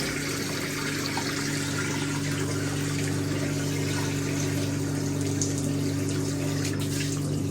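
A 1958 Hotpoint Empress washing machine pumps out its water with a steady motor hum and a constant gushing, liquid rush, loud and close, running unbroken with no voices.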